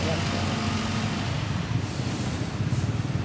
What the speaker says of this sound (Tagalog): Daanan po ito ng mga sasakyan.